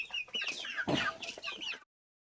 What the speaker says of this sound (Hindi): देखिए मेरा मुर्गियाँ कैसे आ रही है